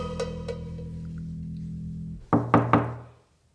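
Three firm knocks land on a door, loud and close, following a low steady hum that cuts out just before them.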